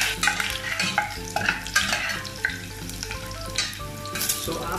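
Garlic sizzles and crackles steadily in hot oil in a pan while it is stirred, cooking for ginisang Baguio beans with Century Tuna, a continuous close frying hiss with no talk.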